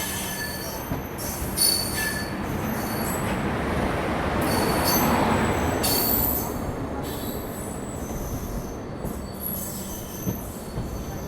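A Garib Rath train pulls away from Alamnagar, wheels squealing steadily on the rails over a continuous rumbling roll that swells midway and then eases, with no voices.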